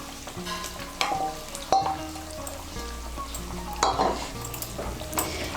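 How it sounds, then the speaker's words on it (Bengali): Fried prawns being stirred into a simmering potato and pointed gourd curry in a pan, with steady sizzling and frying under clustered scraping clinks of a spoon against the pot, close and moderately loud. "চিংড়ি মাছগুলোকে মিশিয়ে নেব।"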